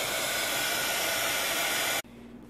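A hair dryer blows steadily on coffee-dyed papers for a junk journal, a loud, close, even whoosh that cuts off abruptly near the end and leaves only a faint hum of the room.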